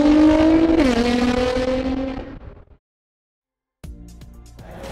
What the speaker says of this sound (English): and this is my Liberty Walk GTR.